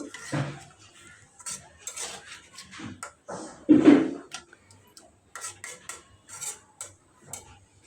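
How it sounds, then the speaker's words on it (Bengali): A utensil scrapes and knocks against a pan while sea fish is stirred with spices, giving irregular clinks and scrapes separated by short quiet gaps, with one louder clatter near the middle. "এখন আমি মাছটা দিয়ে দিয়ে ভালোভাবে মশলার সাথে মিশিয়ে দিয়েছি একটু কষিয়ে নিব"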